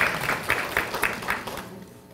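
Audience clapping at a live Spanish-language picture book award presentation: a short burst of scattered applause with several distinct claps, fading out within about two seconds.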